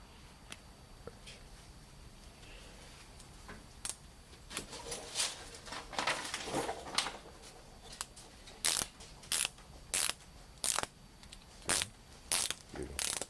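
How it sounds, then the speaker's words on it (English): A ratcheting wrench clicks on the rear shock nut of a 2006 Chevrolet Aveo. At first a few scattered ticks come through under faint rustling, then a series of crisp, evenly spaced ratchet clicks sounds close by. "We're going to put this ratcheting wrench on here"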